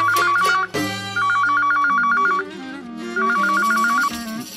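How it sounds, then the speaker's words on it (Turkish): A phone ringtone plays loud and close: a bright electronic trill repeats in three quick phrases over a steady musical backing, with no one talking. "telefonda davul çalar"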